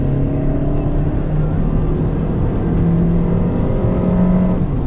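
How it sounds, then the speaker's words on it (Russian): A 2020 Lada Granta liftback with an automatic gearbox accelerates hard from inside the cabin, its engine drone steady and loud with rising harmonics as revs build, then a slight shift in pitch near the end. "смотрите, вторая, газ пол давлю"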